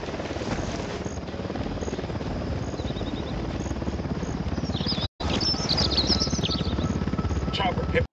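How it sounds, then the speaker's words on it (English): Helicopter in the game Ghost Recon Wildlands approaching with a loud, steady rotor thump that fills the scene, briefly cut out twice, with faint birdsong above and voices talking over it. "We got a chopper coming in."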